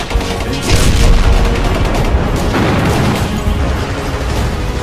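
Gunfire from a reenactment of the Bojong Kokosan battle in Sukabumi, Indonesia: dense, loud, continuous volleys of shots and booms that roll on without pause and with no talking.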